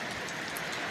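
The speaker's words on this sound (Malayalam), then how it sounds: "ഇടി മഴയും ഇടി മിന്നലും മഴയൊക്കെയാണ് കോഴിക്കോട്" Heavy rain falls in Kozhikode during a thunderstorm: a steady, dense hiss of rain fills the whole short stretch, with no distinct thunderclap and no voices.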